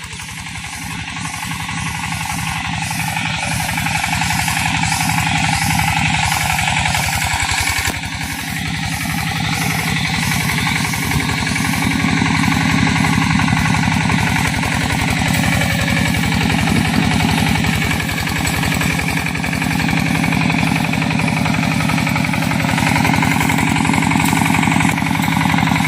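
A land tractor's rotary tiller engine runs steadily and loudly throughout, with a rapid, rattling, hammering chug and no pauses, close to the listener.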